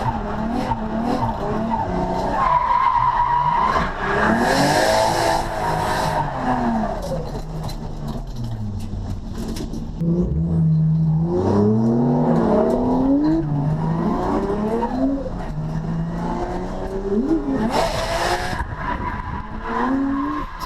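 A race car with a Toyota 1J engine runs laps on a circuit during a morning practice session, loud and continuous, with revving engine tones sweeping up and down and tires squealing and skidding through corners.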